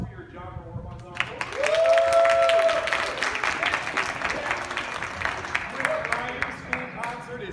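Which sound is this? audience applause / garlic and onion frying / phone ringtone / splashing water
audience applause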